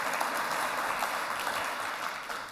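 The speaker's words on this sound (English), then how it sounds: "Big round of applause to Stefan for sharing his story." Steady applause from a conference audience, dense and continuous at moderate volume for the full stretch, with no voices rising above it.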